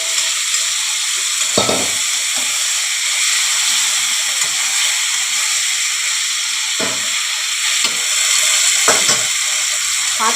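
Taro stolons (kochur loti) added to browned onions and frying in a pan: a loud, steady sizzle and hiss throughout, broken by a few brief stirring scrapes and clatters close by.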